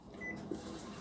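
A microwave oven softening chocolate for breakfast gives a steady low hum that runs the whole second, with a faint tone above it and a small brief click near the middle.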